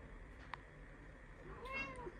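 A cat on top of kitchen cabinets gives a couple of faint, short meows, one brief and one longer with a rising and falling pitch, in a quiet indoor room.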